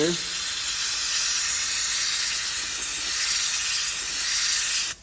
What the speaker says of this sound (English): Just getting a little bit more of the grease blown out of there.